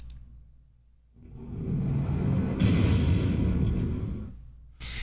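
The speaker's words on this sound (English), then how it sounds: "You have these depth charges, you have this big explosion, and you have the warping of the water right here." A depth charge underwater explosion effect rises after a quiet second into a deep, sustained, muffled rumbling roar that holds for several seconds, with a brighter burst near the end, loud and with no speech.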